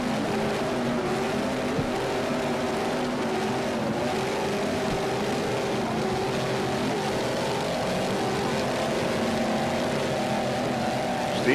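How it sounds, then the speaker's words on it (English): Super V class racing powerboats at the 2006 Daytona event roar steadily with a sustained, loud engine drone throughout, no pause between passes. "Nick Carter racing on the inside."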